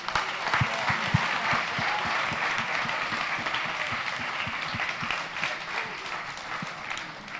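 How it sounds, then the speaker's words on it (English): A crowd gives a round of applause at the close of a local community talk event, a dense steady clapping lasting several seconds with some sharper individual claps standing out near the front. "One more round of applause for everybody."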